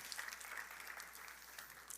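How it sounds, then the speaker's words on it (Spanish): A congregation at a Sunday church service applauds in praise, with a soft, distant wash of clapping that holds steady for about two seconds with no talking. "Dele un fuerte aplauso al Señor"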